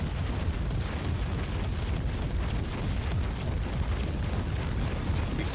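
Weapon fire in Warhammer 40k Inquisitor: Martyr, a dense, continuous roar of blasts and bursts heard close and loud throughout, with no pauses.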